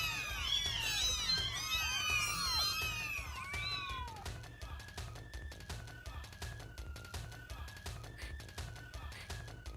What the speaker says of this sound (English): I can't listen to spikes if there are cats around.